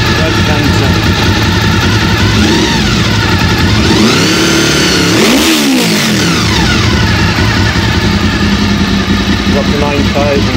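A motorcycle engine roars loudly and continuously, rising in a rev, dipping, then climbing again and settling back, heard close up with a rough, throaty tone.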